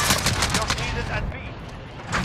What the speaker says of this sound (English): Now I'm magically getting shot by grenades.